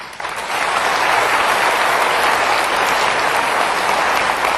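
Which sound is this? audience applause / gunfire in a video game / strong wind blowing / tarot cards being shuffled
audience applause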